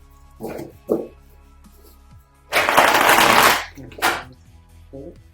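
A new oracle card deck is shuffled by hand: a couple of short riffles, then a loud, dense burst of cards riffling for about a second, another quick flutter, and faint soft taps between. The sound is close and there is no talk.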